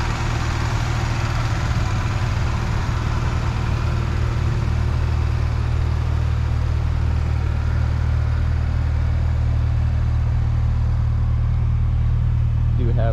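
A 1984 Ford Mustang SVO runs at a steady idle, its engine giving a constant low, smooth hum close by with no knocks or ticks, unchanging throughout.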